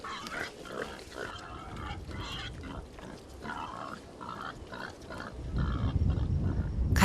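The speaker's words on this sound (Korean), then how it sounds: "하지만 냇가도 벌써 돼지들이 점령해버렸습니다." Pigs grunting and snorting at a stream in rural Tanzania, several animals close by with a steady run of grunts over a noisy outdoor background, growing louder and lower toward the end.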